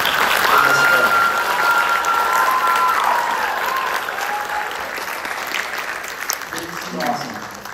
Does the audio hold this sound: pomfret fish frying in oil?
no